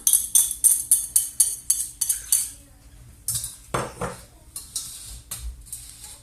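Matsoni mixed with baking soda for quick cookie dough, a spoon clinking rhythmically against a bowl in a fast, regular series of close taps, then slower scraping stirs.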